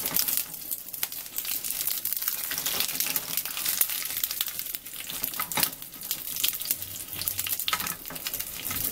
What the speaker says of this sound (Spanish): Aquí mismo vamos a agregar los chiles. Vamos a freír los chiles.